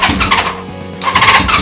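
An old-school bobber motorcycle engine cranks and tries to start, two bursts of mechanical churning with a brief lull between, loud and close with no one talking.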